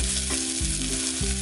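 Vegetables including beans sautéing in a pan of oil for savoury dalia, a close steady sizzle with soft stirring scrapes recurring about every half second.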